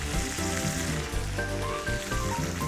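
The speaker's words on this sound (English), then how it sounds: "I'm gonna add a little bit of butter here." Butter sizzles in a cast iron pan alongside a steak, giving a steady close-up crackle and spatter with faint tonal clinks in the background and no speech.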